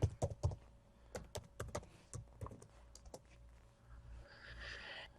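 A login password is typed on a computer keyboard: a quick burst of sharp key clicks, then scattered single taps, close and fairly quiet, ending in faint background noise.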